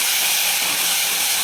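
Chopped onion drops into hot oil with curry leaves, giving a loud, close, continuous sizzling hiss with no voices.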